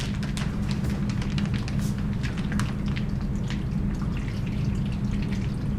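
Fluid pours and drains from a plastic bag holding a preserved dissection cat, a steady close trickle with a dense patter of drips and splashes throughout.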